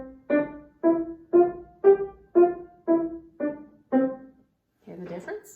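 Eight piano notes are played detached, each struck briefly with short silences between them in an even rhythm, followed by a moment of quiet and then a softer mix of sound at the end.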